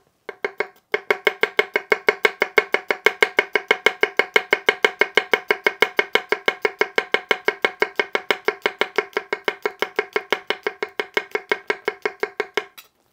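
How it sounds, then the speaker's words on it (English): Bunka knife tapping rapidly through thinly sliced garlic on a cutting board, a steady fast run of crisp, even chops close up with no pauses, alone without talk. "Using the tip of the blade in a tap chop motion is phenomenal with this knife."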